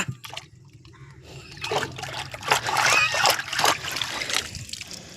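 Water trickles and splashes as a freshly caught river crab is rinsed outdoors on a river, the pouring building in the middle and tapering off, fairly close and soft.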